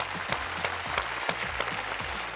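Steady applause from a studio audience at a Telugu TV game show, a dense continuous patter of many hands clapping at moderate level with no voices over it.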